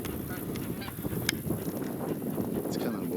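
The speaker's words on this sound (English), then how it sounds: "geese." Geese honk amid waterfowl hunting grounds, several calls popping up over a steady wash of wind and outdoor noise, fairly distant and moderately loud throughout.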